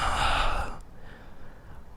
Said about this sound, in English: sorry for the breathing, guys